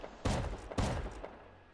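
Two sharp gunshot bursts go off about half a second apart, loud and close, each trailing a brief echo.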